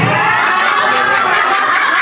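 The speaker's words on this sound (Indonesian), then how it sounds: "Tepuk tangan untuk Pak Satria" A crowd at a school teachers' gathering in Indonesia cheers and chatters loudly, a brief, close burst of excited voices and shouts with no distinct claps.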